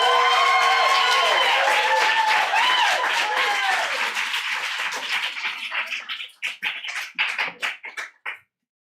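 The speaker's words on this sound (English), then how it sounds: "So you guys shake in your seat while you clap for Mahtem, okay?" Audience applause for a writer at a literary reading, dense and steady at first with cheers over it, then thinning into scattered separate claps before stopping.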